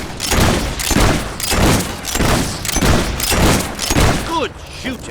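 Gunfire in Fable 3, a steady series of loud booming shots roughly every second, with voices in the mix.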